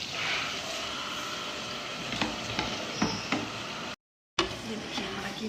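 Minced meat (qeema) hitting hot fried masala in a pan, a steady broad sizzle with a few stirring scrapes and knocks, cut by a brief gap partway through.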